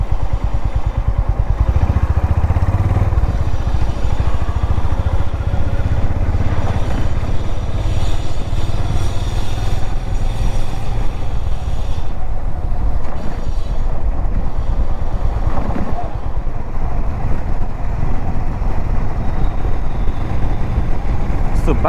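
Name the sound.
Honda H'ness CB350 motorcycle riding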